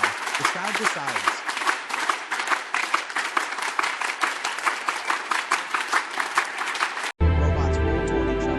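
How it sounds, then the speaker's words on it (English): Children clap together in a sustained burst of rapid, overlapping applause during a classroom robot dance challenge, loud and close, before it cuts abruptly to a different, steadier sound near the end. "Kids clap aloud."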